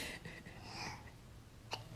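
A single sneeze, brief and fairly quiet at first, ending in a sudden loud burst at the very end, heard indoors with no talking.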